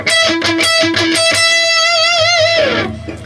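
Distorted electric guitar plays a solo octave lick: palm-muted repeated notes, a whammy-bar wobble on a sustained high note, then a slide down, loud and alone.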